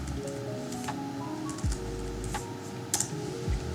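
Fingers type on a computer keyboard, with soft, quick key clicks tapping in an uneven rhythm at close range against a low background hum.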